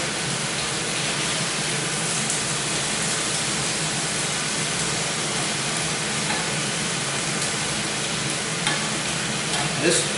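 Thin-sliced marinated steak fillets sear in a hot pan, giving a loud, steady sizzle that fills the whole stretch with a dense crackling hiss and only slight swells near the end.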